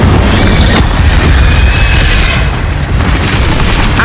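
Incendio fire spell cast in Hogwarts Legacy: a loud, sustained fiery boom that roars and crackles steadily for about four seconds, with no gap or fade.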